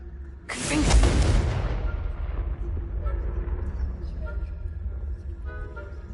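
In Hogwarts Legacy, a Confringo blasting spell goes off as a sudden loud, broadband explosive boom that decays into a long rumbling tail, heard alone without any talking.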